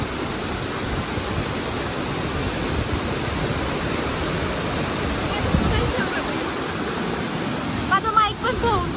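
Broadband roar of waterfall water near Panshet dam outside Pune, steady and close throughout, with a brief burst of splashing or handling near the end.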